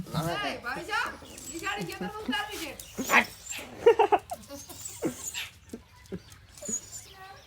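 A dog whines and yelps in short bursts while several people talk and call out excitedly nearby.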